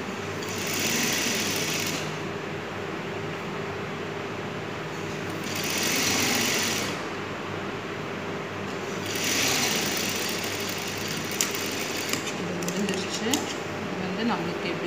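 A sewing machine stitches a folded salwar kameez hem in three bursts of fast mechanical whirring, with someone talking between runs.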